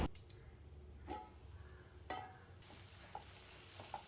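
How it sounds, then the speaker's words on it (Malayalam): Onions sautéing in masala in a pan for a creamy prawn milk curry, a soft steady sizzle with a few sharp stirring scrapes and light ticks, fairly quiet and close, no talking. "അതും കൂടെ ചേർത്ത് നന്നായിട്ടൊന്ന് വഴറ്റിയെടുക്കുന്നുണ്ട്"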